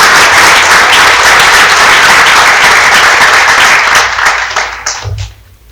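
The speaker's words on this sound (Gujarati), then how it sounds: "એવા R.J. પટેલ સાહેબને આજે જોરદાર તાળીથી વધાવીએ." A crowd at a community gathering bursts into loud, dense applause that holds strong for several seconds before thinning out and fading away.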